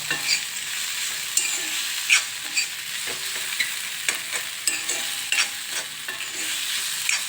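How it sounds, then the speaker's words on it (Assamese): Amita flower fritters frying in oil in a pan, a close, steady sizzle broken by frequent small crackles and pops, with no voices. "আৰু অলপ দেৰি ভজালৈ থৈ দিওঁ"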